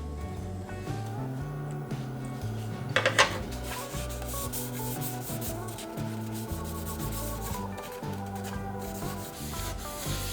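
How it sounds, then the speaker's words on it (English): Sandpaper rubs steadily against a turned alder wood bowl spinning on a lathe, a continuous close abrasive whir with a brief sharper scrape partway through. "This was absolutely gnarly to sand"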